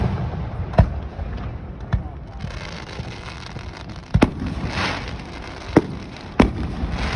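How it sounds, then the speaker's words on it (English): Fourth of July fireworks go off over Gouverneur, New York, in five or six sharp, separate booms spaced irregularly over a rumbling background, some louder and nearer than others. "you got fireworks"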